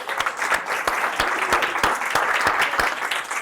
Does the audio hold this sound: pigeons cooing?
no